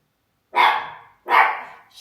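A dog lets out two loud, close barks about three quarters of a second apart, each sharp at onset and trailing off, with silence before the first.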